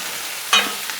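Steak and mushrooms are stirred on a Blackstone griddle: one quick scraping stir over a steady background sizzle, followed by a faint second scrape, with no talk.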